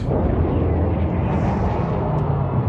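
Enemy ships explode in the space strategy game Homeworld, a loud, sustained roaring blast that rumbles continuously with no pauses and no speech.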